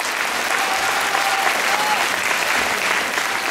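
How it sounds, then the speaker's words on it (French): Audience applause at the 2013 Miss Moselle beauty pageant candidate presentation: a dense, steady wash of many hands clapping together, loud and sustained throughout with no break. "Applaudissez Christelle, s'il vous plaît."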